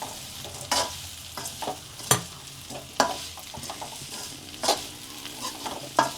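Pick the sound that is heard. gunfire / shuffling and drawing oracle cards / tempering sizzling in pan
tempering sizzling in pan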